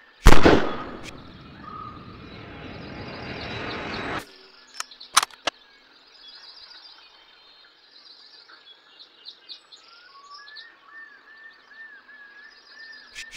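Sniper rifle shots in a dinosaur hunting video game: a loud blast opens the scene, followed by a few sharp, short reports and scattered faint game effects over a quiet, chirping ambience.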